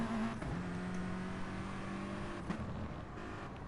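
A race car in a racing video game powers out of an Andretti hairpin, its engine droning steadily at high revs with a sustained tone and a brief shift near the end, loud and continuous with no talk.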